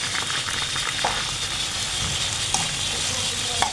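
Meat with peppers and tomatoes frying in a pan, a steady close sizzle and hiss that runs unbroken with a few faint stirring clicks.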